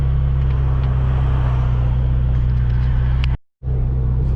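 A Ferrari with a heavy clutch and throttle drives along, its engine a steady low rumble under continuous road and cabin noise, briefly cutting out to silence for a moment before resuming.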